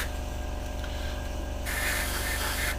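An airbrush spray-paints a 1/48 Hasegawa Harrier GR7 model kit, giving a steady close hiss over a low motor hum that gets brighter and louder partway through as the spray opens up.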